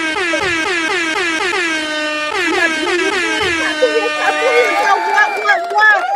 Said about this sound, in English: will you please help this man out with some air horns